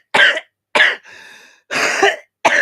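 A person coughs in a harsh fit, four loud close bursts separated by a wheezy, rasping intake of breath, with no other sound around it.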